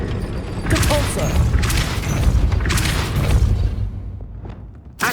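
The Depulso spell cast in the video game Hogwarts Legacy, heavy booming blasts with rumbling thuds and crackling impacts in rapid succession, loud and close, dying away into a faint trailing tone before a final hit.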